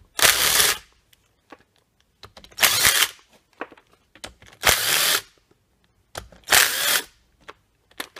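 A power tool runs in four short whirring bursts of about half a second each, with quiet clicks and handling noises between them, while nuts and bolts come out of two-stroke Polaris 250–400 engine cases.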